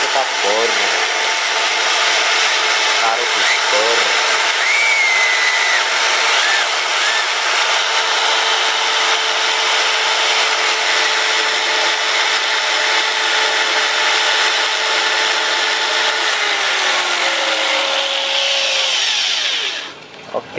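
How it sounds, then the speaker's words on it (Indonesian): A drill bores through an air rifle part while the gun is being serviced to stop a leak, a steady loud whirring grind holding for about twenty seconds before it cuts out. "Biar nggak bocor, kita bor."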